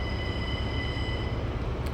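A train at Sheffield station, the 10:55 service, rumbles steadily with a low, constant drone and faint high tones, heard nearby without talk throughout.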